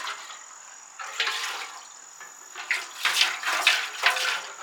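Water runs from a tap into a Honda CB750 motorcycle fuel tank that is being rinsed out with baking soda, making a hollow splashing gush that surges in several louder bursts.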